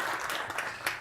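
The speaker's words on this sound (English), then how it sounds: "We give them a round of applause" Brief applause from an audience honoring refugee resettlement work in Delaware, a soft, steady patter of many hands clapping at a distance, lasting about a second with no voices over it.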